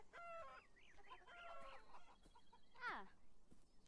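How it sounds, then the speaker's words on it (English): Chickens clucking in the video game Beyond Eyes, a few quick cackling bursts and one rising squawk, faint and close, with no talk. "A load of chickens."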